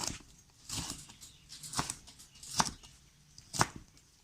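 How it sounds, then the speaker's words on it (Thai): A knife chops chili peppers on a cutting board for a northern Thai pork chili dip, with a few separate quiet thuds spaced about a second apart. "ก็เอามาหั่นให้หน่อยเจ้า"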